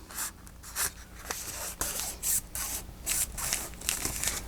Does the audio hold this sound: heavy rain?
no